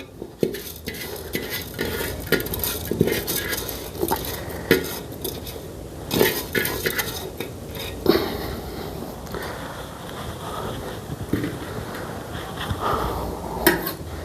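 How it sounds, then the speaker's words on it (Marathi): Rice gets stirred in a cooking pot, with scraping and clinking of the utensil against the metal and a faint sizzle underneath, in irregular close strokes. "आणि जो भात आहे तो आता आपण थोडा हलवून घेऊया"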